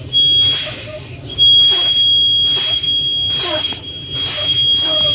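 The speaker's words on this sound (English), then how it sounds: "My low air pressure alarm came on before 60 psi." A loud, steady warning tone from a truck's low air pressure alarm fills the cab, sounding continuously as the air brake pressure is pumped down toward 60 psi, with pulsing broadband sounds recurring about every second behind it.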